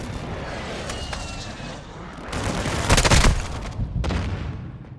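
Artillery strike from a called-in fire mission landing on a target in Call of Duty: Modern Warfare II, a burst of heavy booming blasts and crackling fire peaking midway, with further rumbling impacts trailing off over continuous battlefield noise.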